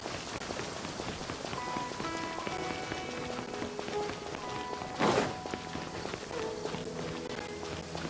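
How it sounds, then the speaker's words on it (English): Steady rain falls in the video game Genshin Impact, a continuous soft patter that runs the whole time beneath gentle background music, with a brief louder swell of noise midway. "The rain won't slow me down."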